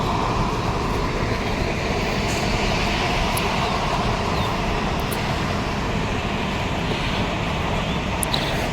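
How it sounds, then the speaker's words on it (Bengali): A train rolls in beside the Chandannagar flyover, a continuous heavy rumble of wheels and carriages blended with passing road traffic, steady and fairly loud for the whole stretch with occasional faint squeals above it. "একটা ট্রেনও আসছে এখন, দেখো ট্রেন ঢুকছে"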